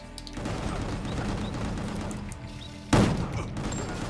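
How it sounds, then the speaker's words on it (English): Gunfire from the video game Gungrave G.O.R.E, where one trigger pull fires four shots, crackles as a dense, continuous volley of shots, with a sharp heavy blast near the third second. "when you push the trigger once, he will shoot 4 times"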